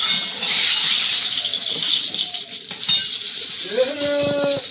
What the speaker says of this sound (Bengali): কড়াইয়ে একটু তেল দিলাম, এবার বেগুনের তরকারি।